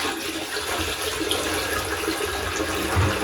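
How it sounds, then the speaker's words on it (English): Water pours rapidly into a toilet bowl during a power outage, forcing a flush, a close continuous rushing gush and gurgle without voices. "keep a close eye as we pour this water in, you will see that flush"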